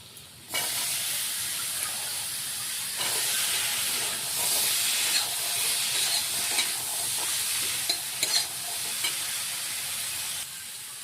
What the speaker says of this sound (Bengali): এবার এগুলো আমরা দিয়ে ভালো করে কষিয়ে নেব